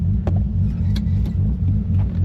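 R33 Skyline driving on a test run, a loud, steady low engine rumble heard from close by, with a few faint knocks over the drone.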